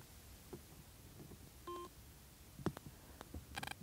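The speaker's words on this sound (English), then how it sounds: "I'm going to push in and hold down till I get an audible tone." Schuberth SRC Bluetooth headset for a C3 modular helmet giving a short electronic tone after its phone button is held, a brief beep followed by a few faint clicks and a quick run of chirps in a quiet room.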